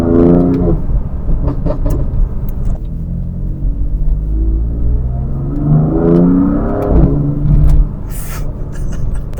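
A BMW F80 M3 engine revs up and down repeatedly while driving, loud and close, with a deep rumble and rising whine.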